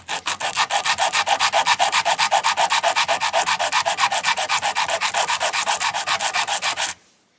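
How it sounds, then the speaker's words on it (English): Emery cloth wrapped on a wooden block sands the edges of a bowtie inlay piece in fast, regular back-and-forth strokes, about five per second, loud and close, stopping abruptly at the end. "I've got some emery cloth on a block of wood, and we're just going to use that to true up those edges"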